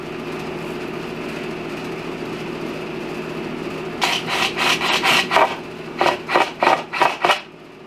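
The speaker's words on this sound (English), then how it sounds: "I'm just going to drive two screws where the 2x4 is all the way down" Screws driven into a 2x4 while building a bench seat with hidden drawers, a steady hum for four seconds, then two runs of rapid grinding bursts, about five each, close and fairly loud.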